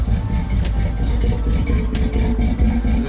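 A loud 1984 Chevrolet C10 truck engine idling close by through a single exhaust, low rumbling steadily with slight fluctuations and a couple of faint clicks, no speech.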